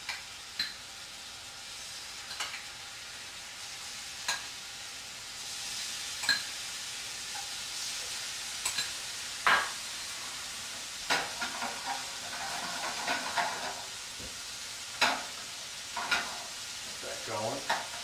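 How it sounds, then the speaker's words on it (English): Shrimp sizzle and crackle steadily in a hot pan, with occasional sharp clicks and scraping stirs scattered over the hiss. "Yeah, we got a nice sizzle going."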